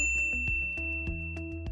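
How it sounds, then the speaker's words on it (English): A series of bright bell-like dings rings out in a quick rhythmic run, about six clear chimes with ringing tones, no speech. "ring the bell to be notified about our latest videos"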